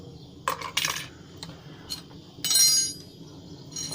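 A metal spoon scrapes and clinks against moulds while working molten .999 tin, giving several sharp, bright metallic taps and a longer scraping clatter, close and fairly quiet over a faint low background.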